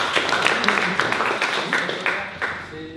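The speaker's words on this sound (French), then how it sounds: "Bravo, on l'applaudit tous." A conference audience applauds a participant: a dense, steady wash of many hands clapping for about three seconds, fairly loud and close.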